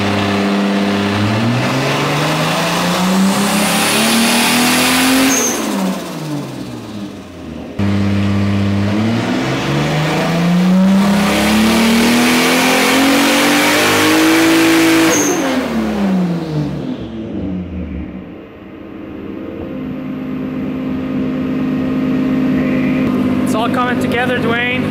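A Toyota 2JZGTE engine swapped into a Mazda 929 revs loudly on a dyno in two long rising pulls, the engine note climbing steadily before dropping back, then settling to a lower rumble.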